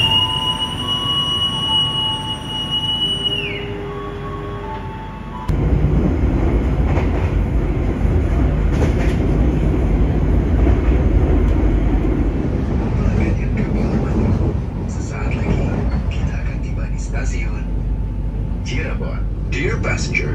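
A Tawang Jaya passenger train pulls away from Jatibarang station, a loud steady rumble with rhythmic wheel clatter filling the carriage after a quieter, tonal stretch; voices and an announcement chime are heard early on.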